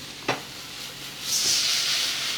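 Ramen noodles being moved around in a hot pan for chicken ramen with sautéed mushrooms, spinach and green onions, giving a steady close sizzle and hiss after a single soft knock.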